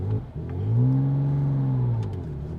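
A Porsche engine revs with a throaty, rising drone that swells, holds steady for about a second, then eases back, heard up close from inside the car.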